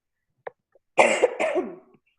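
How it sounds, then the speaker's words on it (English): A single person coughs during an online webinar, one short harsh burst followed by a second rougher cough, close and clear against silence, preceded by a couple of tiny clicks. "I'm going to cough"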